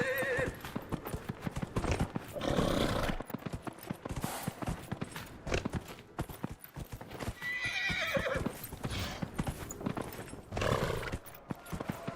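Hooves clip-clop at a gallop from a horse in Dragon Age Inquisition, a rapid steady rhythm carried across the whole stretch, with occasional neighs and whinnies rising over the pounding hoofbeats.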